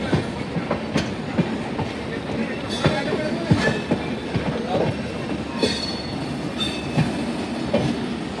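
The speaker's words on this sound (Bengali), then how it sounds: "এই যে ডানকুনি ক্রস করছে আমাদের ট্রেন।" The Saraighat Express running on rails between Howrah and Dankuni, heard from inside as a continuous loud rumble with rhythmic clicking wheel beats and occasional squeals, with no voices.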